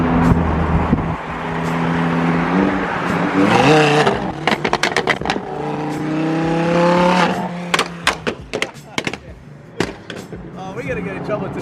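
Dodge Hellcat engine revving hard outdoors, loud throaty bursts followed by sharp cracking pops, with people talking and exclaiming over it.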